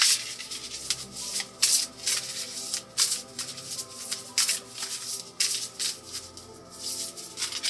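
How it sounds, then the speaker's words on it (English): A tarot card deck being shuffled by hand, giving repeated soft riffling and rubbing bursts in an uneven rhythm, close and moderately quiet, with no talking. "actually let's pull this deck first. I'm gonna just shuffle here, tapping in our energy,"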